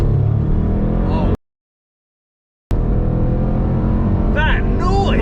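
A Range Rover SVR engine roars as it accelerates hard in normal mode with its exhaust valves open, a loud rising growl broken by a brief gap, with excited voices over it.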